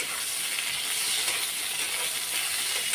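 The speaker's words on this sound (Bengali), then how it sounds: "আর শুধু কপিটা লাল লাল করে ভেজে নেব" Cauliflower pieces fry in hot oil, a steady bright sizzle and hiss that stays even throughout, close and alone without talk.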